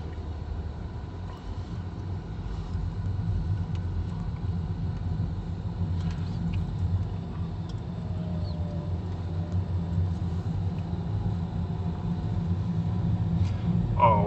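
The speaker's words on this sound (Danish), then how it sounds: "Jo, en bus." Low rumble of a bus on a main road in Tenerife, building slowly as it approaches and growing louder toward the end, with steady background hum.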